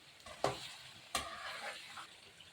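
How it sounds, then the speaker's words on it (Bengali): Beef cooking slowly on low heat for Old Dhaka-style beef tehari, stirred in a pot: two distinct scraping strokes over a quiet, soft sizzle. "আমরা আরও 10-15 মিনিট লো হিটে এভাবে মাংসটা রান্না করব এবং একটু পর পর নেড়ে দিব"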